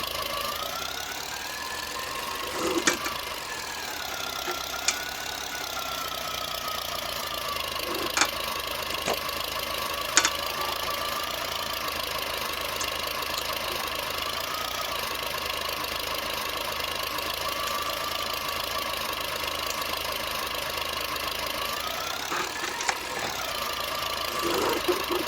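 An old Nuffield or Fordson farm tractor engine idles during hay carting, a steady mid-pitched knocking chug with a few sharp clanks and a brief rev-like swell near the end, no talking.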